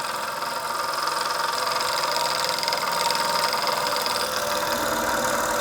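A small German model steam engine with a vertical boiler runs steadily, giving a close, continuous mechanical chuffing and rattling hum at an even pace with no speech.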